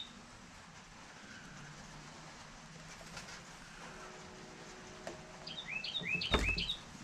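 A few bright, quick bird chirps ring out near the end over a quiet indoor background hum, close and clear, with rain implied but not prominent.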